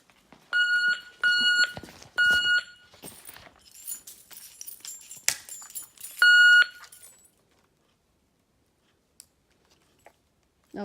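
A handheld walkie-talkie radio gives several short, sharp electronic beeping bursts in quick succession with clicks in between, then falls quiet, heard nearby inside a derelict building during urban exploring.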